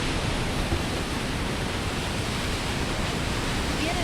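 Water pours steadily at Rock House Falls, a frozen Tennessee waterfall in winter, a dense, even rushing roar close by that never lets up.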